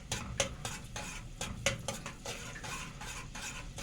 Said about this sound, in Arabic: بديها تقليبه، مش بقليها